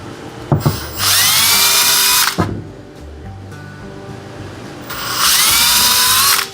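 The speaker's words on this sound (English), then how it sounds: "Tiniest drill bit I've got just to make a little pilot hole so the wood doesn't split" A power drill with a tiny bit bores a small pilot hole in wood, two close, loud whirring bursts of about a second and a half each, spinning up and winding down, separated by a quiet pause.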